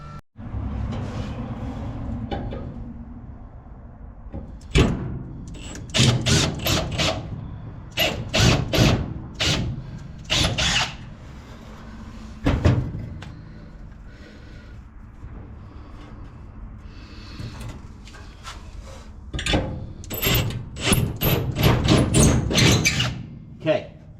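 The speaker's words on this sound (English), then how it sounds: "So let's open the hood and align that up." The hood of a 1953 Chevy 3100 pickup, fitted with an S10 frame front clip, is opened with loud metallic clanks, thuds and rattles in bursts. Someone talks intermittently between them.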